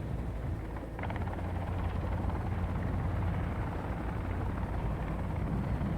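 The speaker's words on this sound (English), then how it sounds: "Oh, we're in a helicopter." Helicopter flight in the video game Sons of the Forest, a loud, steady rotor and engine drone with a deep rumble that runs unbroken throughout.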